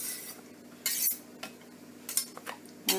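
A kitchen knife chops garlic on a cutting board, making a few faint, irregular taps and clicks scattered across a quiet background.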